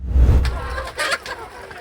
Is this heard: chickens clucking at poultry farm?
yes